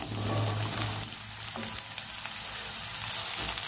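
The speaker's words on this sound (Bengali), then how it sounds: "দেখুন তেলটা গরম হয়ে গেছে, এর মধ্যে আমি পেঁয়াজ কালি আর বেগুনটা দিয়ে দেবো।" Eggplant and nigella seeds hitting hot oil in a pan for a Bengali eggplant dish, giving a steady, close, broadband sizzle with faint stirring; nobody speaks.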